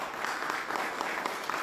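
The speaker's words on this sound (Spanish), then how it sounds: "un aplauso por favor para Juan Torres" Audience applause at a museum seminar on visual cultures, a steady wash of clapping from a crowd that holds at an even level throughout without letting up.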